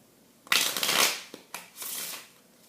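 A regular deck of playing cards is shuffled in two quick riffling bursts, the second softer, with a sharp flutter of cards close to the microphone and no talking.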